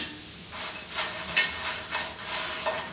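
Dry Byadgi chillies hiss and sizzle as they fry in a hot pan, with a steady crackling hiss and a few louder spitting bursts at irregular intervals, close by and without voices.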